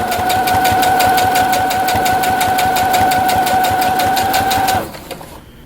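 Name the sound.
sewing machine stitching and backstitching a sunglasses case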